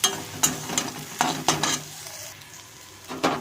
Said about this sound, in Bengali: হলুদ দিয়ে বেশ খানিকক্ষণ একটু নাড়াচাড়া করে নেওয়ার পরে মশলাটা দিয়ে দেব